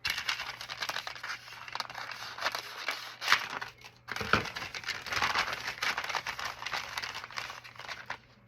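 Scissors snip through torn paper for a tall skinny art journal, a close, steady run of crisp crinkly cuts and paper rustles with a brief pause partway through, and no talking.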